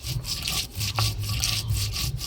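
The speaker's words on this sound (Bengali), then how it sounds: "লাউয়ের জন্য আদা, জিরা, ধইনা আর লঙ্কা একসাথে বাইটে নেব।" Ginger, cumin, coriander and chilli are ground on a grinding stone, a rhythmic back-and-forth rasping scrape repeated about ten times at a steady pace, close and moderately loud with no talk.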